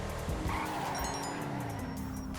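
An Übermacht Rebla GTS SUV in GTA 5 brakes hard, its tires squealing and skidding over the engine drone, with a falling engine note as the car slows.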